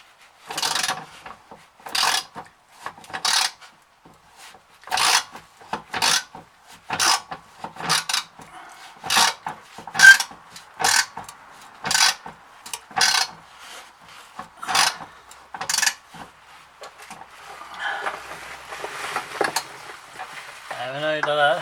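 Repeated ratcheting strokes of a wrench tightening the adjustment bolt on a Volvo rear suspension arm, a steady series of short metallic rasps with pauses between, followed by softer rattling and handling noise near the end.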